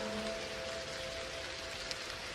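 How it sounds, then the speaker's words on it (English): Soft, steady rain pattering on the outside of a small enclosed pod, a continuous gentle hiss at low volume with a faint steady hum underneath and no voices. "The raindrops are gently dancing on the exterior of your pod."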